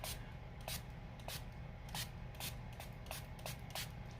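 Makeup setting spray misted over the face and hair in a string of short, soft pumped bursts, roughly a dozen quick hisses close by and fairly faint.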